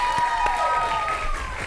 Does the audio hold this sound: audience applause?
yes